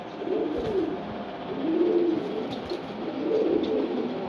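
Racing pigeons of a Belgian bloodline cooing close by, with soft low coos repeating in slow overlapping waves and no talking.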